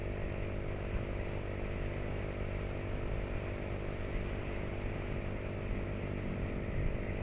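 Motorcycle engine droning steadily while riding, a continuous buzzing hum with wind rush, no talking.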